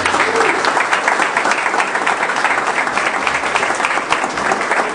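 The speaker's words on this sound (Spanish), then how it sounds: "De un aplauso para Daisy." Sustained audience applause fills a musical group's inauguration event in Moquegua, a dense, steady clapping wash lasting throughout at close range with no voices on top.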